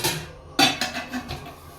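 Clanks of a metal oil kettle being handled at a wok on the stove, a sharp metallic knock followed by a few softer taps and scrapes, close and brief.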